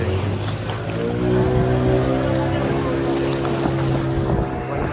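A boat engine drones steadily while sea water rushes and splashes against the hull off Malvan, with wind buffeting the microphone.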